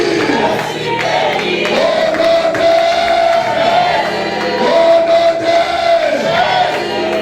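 A church congregation cheers and shouts loudly together in a dense, sustained roar with whoops and a long held tone over it, rising and falling in waves without a break.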